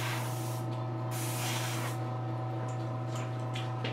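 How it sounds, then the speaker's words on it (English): An HPCH airbrush sprays paint at 35 to 40 psi, a faint continuous airy hiss that swells in short bursts over a low steady compressor hum. "most of the time this is the airbrush I use, the HPCH"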